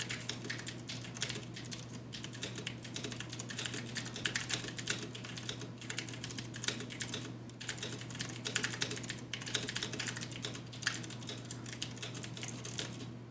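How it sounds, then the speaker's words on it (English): Rapid, continuous clacking of a 60% mechanical keyboard with Cherry MX Blue switches during a typing test, crisp and close with steady irregular keystrokes throughout, and no voices. "I'm just going to give this a little typing test."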